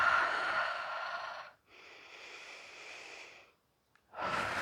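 Slow, deep breaths taken close to the mic during a yoga hip workout, with a long airy exhale, a softer inhale, a short pause and the next breath starting, and no talking.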